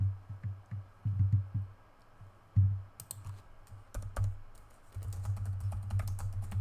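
Quick bursts of typing on a computer keyboard, close and fairly soft, with irregular clusters of key clacks separated by brief pauses, no voices.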